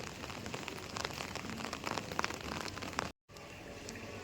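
Steady rain patters densely on a surface nearby, with scattered louder drops, cut by a brief silent gap before continuing.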